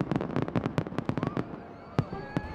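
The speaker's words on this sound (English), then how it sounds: "And of course, we end the night with fireworks." Fireworks bursting over Pittsburgh on a holiday night, a rapid crackling volley of sharp pops followed by a few spaced louder bangs, heard from a distance.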